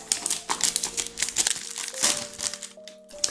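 Crinkly plastic packaging being opened around a Moyu Weilong GTS 3M speedcube, with continuous close crumpling and tearing rustles and sharp crackles throughout.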